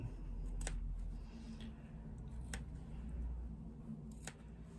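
Scissors snipping fabric at the curved seams of a sewn shopping bag, three sharp separate clips spaced a couple of seconds apart, quiet over a low steady room hum.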